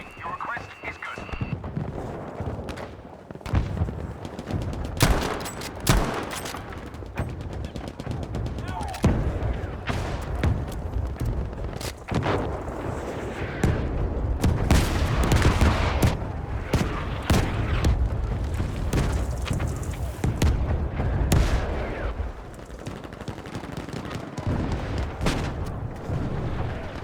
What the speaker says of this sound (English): Requesting an artillery barrage at these coordinates.